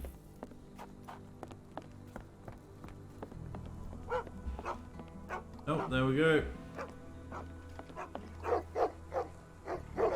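Two dogs bark in a Sherlock Holmes video game, sharp repeated yaps scattered through the stretch among footsteps and game ambience, with a voice speaking briefly.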